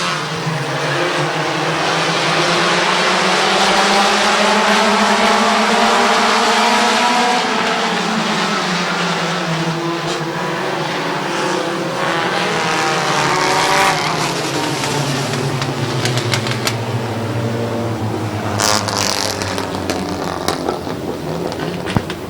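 Race cars roar around Midvale Speedway at the fall classic, a loud, continuous engine drone rising and falling in pitch as several cars pass close together, with occasional tire squeal.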